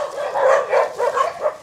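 Dogs bark in a quick, uneven run of several loud, close yaps with short gaps between them.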